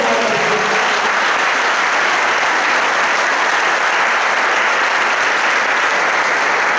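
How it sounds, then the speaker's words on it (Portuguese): A church congregation at Igreja Apostólica Templo Vivo breaks into strong, sustained applause that starts with a quick swell and stays dense and even for nearly seven seconds, with no talking over it. "Dá um aplauso para Jesus, bem forte."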